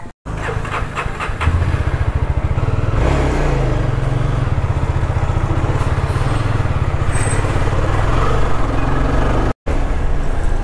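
A motorcycle engine runs loud and close as a rider sets off from a stop near Athirapally Waterfalls in Kerala, a steady throbbing drone holding for several seconds with a couple of abrupt dropouts.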